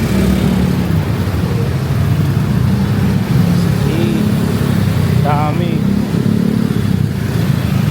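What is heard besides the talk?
many motorcycles and cars in Philippine traffic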